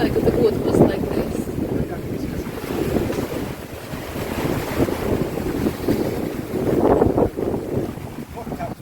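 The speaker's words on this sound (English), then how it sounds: "And it's pretty good wind." Steady wind buffets the microphone aboard a sailboat on the Pacific, mixed with water rushing along the hull in continuous, fairly loud gusts, with voices talking beneath the noise.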